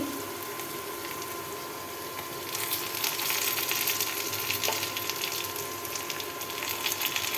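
Chopped tomato frying with potatoes in a pan, a steady close sizzle and bubbling hiss that grows louder after a couple of seconds and keeps going without pause.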